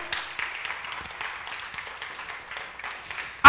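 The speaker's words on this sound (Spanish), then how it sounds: "¿Cuántos le dan un aplauso al Señor?" Congregation applauding the Lord during a Sunday church service, a steady wash of many hands clapping at moderate distance, fairly even throughout before a sudden louder burst right at the end.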